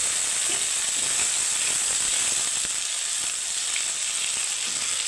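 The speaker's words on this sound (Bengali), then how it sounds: "তো হালকা কাঁচা গন্ধ চলে যাওয়া অবধি আমি একটু ভেজে নেব মশলাটাকে" A tomato, ginger and green chili spice paste frying in a pan gives off a steady, even sizzle with a bright hissing edge, running without a break and with no talk over it.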